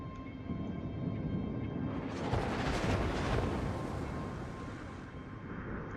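Heavy naval gunfire from the cruiser Omaha in World of Warships, a dense rumbling roar that swells through the middle and fades, with no talk over it.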